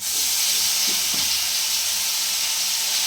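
Ginger, green chili and garlic paste fries in a pan for a Bengali fish curry, a steady dense sizzle with a few soft stirring scrapes and no talk.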